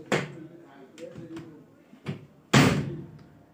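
Door of a Zanussi 5 kg automatic washing machine pushed shut during repair, a loud solid thud after earlier lighter knocks and handling clunks, with someone speaking between them.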